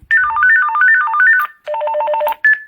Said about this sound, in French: Il y a plusieurs sonneries différentes.